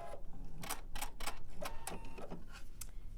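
A sewing machine back stitches a few stitches on a seam, heard as a quiet series of sharp mechanical clicks and short bursts spaced irregularly, close by.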